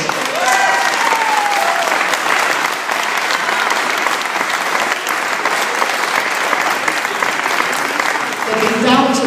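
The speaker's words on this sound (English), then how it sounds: "I think in here we should give this administration a round of applause" A crowd at the York City victory parade applauds the city administration, a loud, sustained wash of clapping with cheers and some voices in the open air, ending as a speaker resumes talking.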